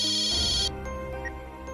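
A phone ringtone plays as a bright, tonal electronic melody for under a second and then cuts off, leaving a low background hum.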